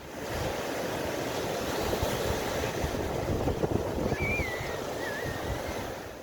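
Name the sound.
ocean waves in the shallows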